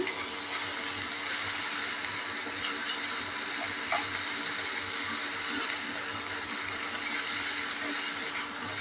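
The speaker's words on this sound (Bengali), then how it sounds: "আলুটা দেওয়ার পর ভালো করে নেড়ে চেড়ে নিচ্ছি আবারও।" Cut potatoes stir-fry in a pan for matar paneer, giving a steady, close crackling sizzle with scraping stirs throughout and no talking.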